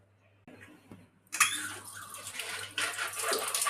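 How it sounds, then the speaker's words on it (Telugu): Water is poured into a mixer jar in a kitchen while making beetroot halwa. A soft trickle swells into a steady, fairly close splashing pour that runs for a few seconds. "ఇలా మిక్సీ జార్లో ఒక హాఫ్ గ్లాస్ వరకు వాటర్ పోసుకోవాలి"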